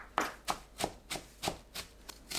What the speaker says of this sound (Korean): 브로콜리를 다져서 준비하세요.